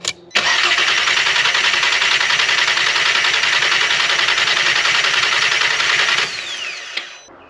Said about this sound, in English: Car wouldn't even start, so we gave it a couple cranks.